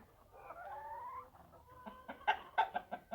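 Several young hens cluck close by in short, uneven bursts, with a drawn-out squawk near the start and sharper clucks clustering toward the end.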